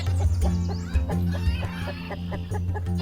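A flock of hens clucks in a cartoon setting, a busy string of short, repeated clucks over a steady low hum, close and continuous with no voices.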